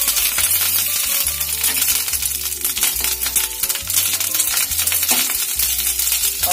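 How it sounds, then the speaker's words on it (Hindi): Mustard seeds and cumin sizzle in hot oil in a pan, a dense crackling fry with scattered pops and light clinks, steady and close, with no talking. "तेल हमारा गरम हो गया, इसमें डालूंगी मैं कुछ राई के दाने और थोड़ा सा जीरा"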